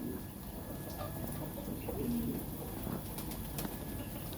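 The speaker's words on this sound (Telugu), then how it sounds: "పావురాలు ఉన్నాయి." Pigeons coo softly among chickens in a fenced yard, a faint low cooing call rising briefly over a steady background hiss, with no talk.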